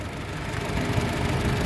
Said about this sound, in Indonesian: Honda HR-V ini mengusung mesin 1500cc 4 silinder dengan penggerak roda depan.